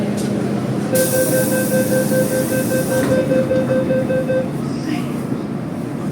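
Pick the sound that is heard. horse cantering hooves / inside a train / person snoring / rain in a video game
inside a train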